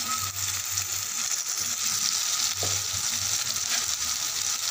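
Spice paste with turmeric sizzles and fries in a pan, a continuous bright crackle with occasional stirring scrapes, close and steady.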